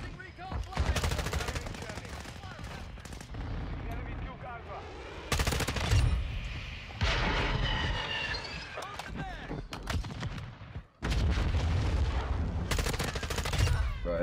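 Shotgun fire from Call of Duty: Modern Warfare 2 comes in loud, heavy bursts of repeated blasts, separated by short quieter gaps of game noise.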